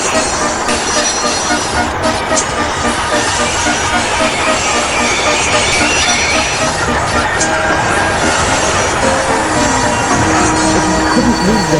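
A steam engine puffs and strains against heavy coaches, a dense, continuous rhythmic chugging with wheel and rail noise running loud and steady throughout, a few squeal-like tones near the end.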